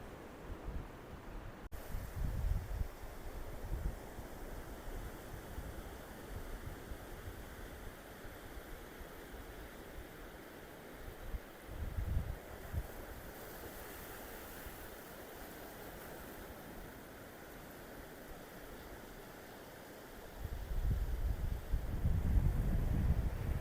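Steady roar of surf washing onto the shore at Veraval Chowpati, with gusts of wind buffeting the microphone and a heavier wave surge near the end; no talking.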